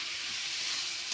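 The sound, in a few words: spice masala frying and sizzling in a pan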